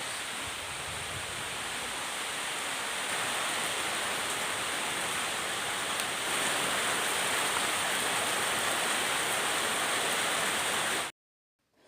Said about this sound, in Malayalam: അപ്പോൾ അത്യാവശ്യം നല്ല രീതിക്ക് തന്നെ മഴ പെയ്യുന്നുണ്ട്